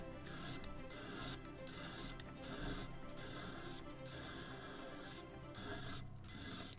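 Steady scraping strokes of sandpaper rubbing a small gun carriage part for a 1776 gunboat Philadelphia ship model, close and continuous with a rhythmic back-and-forth texture and no talk.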